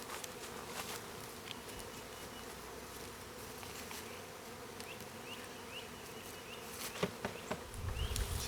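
A swarm of bees hovers around a hanging bee trap outdoors, heard from about twenty feet away as a steady, fairly faint, agitated buzz with a few louder passes close by near the end.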